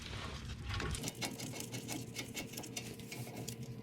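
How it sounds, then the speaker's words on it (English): A hand ratchet rapidly clicks as it spins out the brake caliper bolts on a 2014-2018 Jeep Cherokee Latitude, a fast continuous ticking close to the microphone. "Now I'm going to switch to a ratchet, and they're pretty much hand tight."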